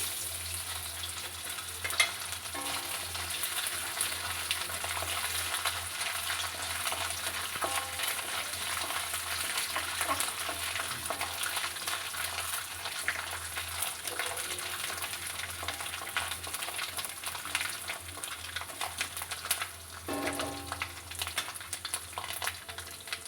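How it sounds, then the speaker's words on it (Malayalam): Coconut pieces fry in hot oil with mustard seeds in a pan, making a continuous close sizzle with faint crackles and occasional stirring scrapes, steady throughout with no talking. "ഇതിലേക്ക് നമുക്ക് തേങ്ങാക്കൊത്ത് ഇട്ട് കൊടുക്കാം."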